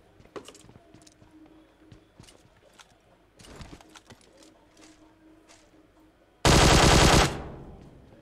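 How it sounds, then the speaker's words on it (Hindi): Automatic gunfire in the mobile game PUBG Mobile, a single loud sustained burst of rapid shots late on, following quieter game sounds and scattered clicks. "तो बिना उसके फायर करना पड़ेगा रिकॉल देखने के"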